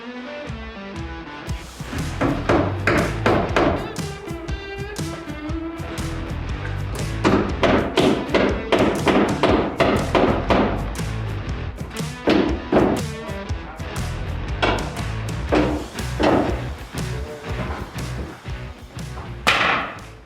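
Hammer strikes ring out as nails go into wall sheathing on a backyard ADU build, a dense run of sharp, loud, close blows that continues steadily for the whole stretch.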